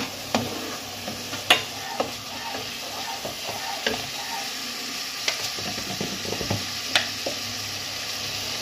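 Prawn malai curry masala is sautéed in a pan, a continuous close sizzle punctuated by repeated sharp knocks and scrapes of a spatula stirring against the pan.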